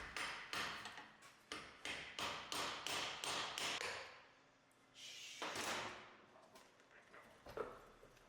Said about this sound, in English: hammer the U-joint off of the pin with your brass punch.